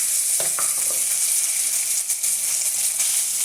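Cooked rice tipped into a hot pan while making paneer biryani, setting off a loud, steady frying sizzle and hiss throughout, with a few soft stirring knocks near the start.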